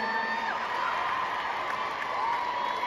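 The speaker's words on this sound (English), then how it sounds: "give yourselves a big round of applause" A large arena audience at a Muni Long concert in Denver cheers and whoops in a steady, loud wash of screams and applause that fills the whole space and holds without a break.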